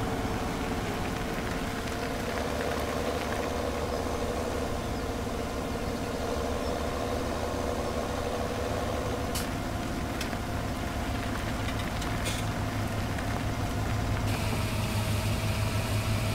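Tractor engine in Farming Simulator 17, a steady low idling drone running continuously at moderate distance, with faint clicks and no speech.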